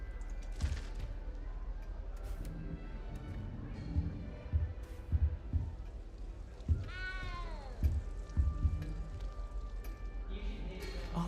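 A small cat meows several times in the video game Hogwarts Legacy, one clear rising-and-falling cry standing out over a steady game soundscape with soft footsteps and background ambience.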